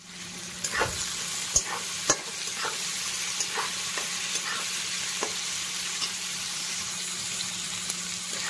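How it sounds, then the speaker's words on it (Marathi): Onion frying in oil with cumin, hing and curry leaves, a continuous soft sizzle with occasional spoon taps and stirring clicks against the pan. "आता हा कांदा गुलाबी होईपर्यंत आपल्याला परतू द्यायचा आहे."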